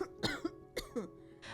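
An elderly woman coughs in a few short, harsh bursts spaced across a second and a half, close and fairly quiet, with a rasping throat-clearing quality and no talk.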